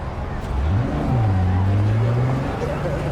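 A car engine revs and accelerates while driving in Cyberpunk 2077, its pitch rising and holding steady, loud and close with a faint voice underneath.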